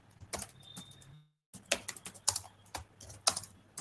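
A password typed on a computer keyboard nearby, quick irregular key clicks in short bursts broken by a brief silent pause, with no talking.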